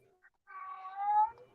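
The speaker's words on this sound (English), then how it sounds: "And there's my cat saying hello." A house cat meows once, a faint, drawn-out call that rises slightly before trailing off, heard alone in a quiet room.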